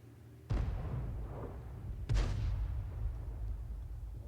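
Two heavy cannon shots from an AMX 13 F3 AM in a tank video game land about a second and a half apart. Each is a deep boom with a rumbling tail over low background noise.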